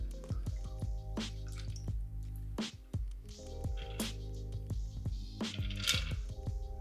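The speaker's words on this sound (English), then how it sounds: "So nice clear cube, add that to the glass and strain over the top." Liquid from a Painkiller Old Fashioned cocktail is strained over a clear ice cube in a glass, giving close, quiet drips, splashes and light clinks in a short irregular series.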